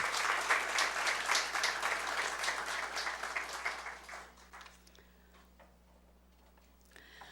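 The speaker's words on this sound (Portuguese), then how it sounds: "eu peço, então, uma salva de palmas aí para os nossos conselheiros" Audience applause at a public hearing: a crowd claps steadily for about four seconds, then the clapping fades out into a quiet room with a low hum.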